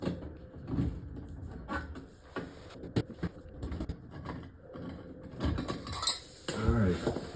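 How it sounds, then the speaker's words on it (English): A bolt and cover being removed from the wiring box of a dishwasher during replacement: quiet metallic clicks, scrapes and rattles of the panel, close and irregular, with no talking. "You want to take that bolt off and that'll release this cover, which exposes the wires."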